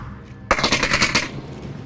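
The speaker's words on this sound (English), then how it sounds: "He's shooting over the wall." Rapid gunfire bursts from a rifle shot over a wall in the VR shooter game Onward VR, starting abruptly after a quiet moment and rattling loudly for nearly a second before fading into a reverberant tail.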